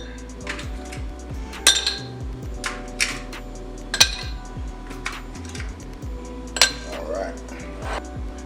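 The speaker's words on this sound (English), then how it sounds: "the first thing we're gonna do is go ahead and ice our glass. I'm gonna put about 3 to 4 cubes in here." Three or four ice cubes drop one by one into a cocktail glass, each landing as a sharp, close clink, spaced a second or so apart over a low hum.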